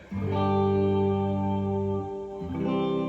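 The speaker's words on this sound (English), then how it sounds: "So let me add some reverb to it." An electric guitar chord rings out and sustains with a washy reverb tail, then a second chord is struck as the first fades.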